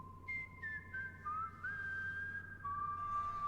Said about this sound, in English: he hears some creepy-ass whistling in the distance